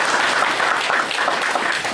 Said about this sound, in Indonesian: Ya, tepuk tangan Pak Erwin.